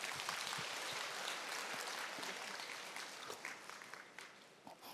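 Audience applause at a one-day business seminar: a steady wash of many hands clapping, fairly loud at first and thinning slightly toward the end, with no talk over it.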